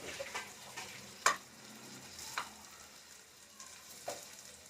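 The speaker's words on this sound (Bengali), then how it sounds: "এবার আলুটাকে আমি এর মধ্যে একটুখানি তেলের মধ্যে সাঁতলে দেবো" Cut potatoes fry quietly in a little oil with onion and green chilli in a pan, a soft sizzle broken by a few sharp scrapes and clicks of stirring.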